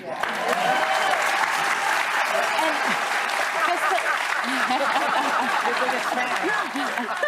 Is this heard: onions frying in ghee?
no